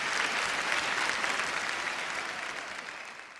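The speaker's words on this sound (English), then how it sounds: "A huge, huge round of applause for this endeavor." Audience applause fills a hall at the Femina Miss India 2019 pageant, a dense, steady wash of clapping that slowly fades.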